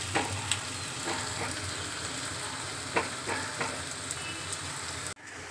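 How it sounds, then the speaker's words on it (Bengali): Onions sizzle steadily in a pan with occasional light clinks of stirring, continuous and close, with no voices. "পেঁয়াজটা ভাজাই।"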